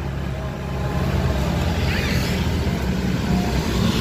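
A steady motorcycle engine drones close by on a street after heavy rain on the night before Eid al-Fitr, its low rumble holding constant for the full few seconds with faint background noise.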